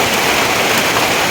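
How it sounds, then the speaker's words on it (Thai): Heavy rain pours down over flooding rice fields in a dense, loud, steady roar of drops with no break and no voices. "ตกเทขนาดเลยฝนนี่"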